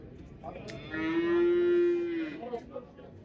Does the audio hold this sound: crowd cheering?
no